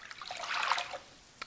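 Water trickles steadily into a bowl of bread dough ingredients for an artisan-style loaf, a short close pour of about one second that swells and then fades, heard alone.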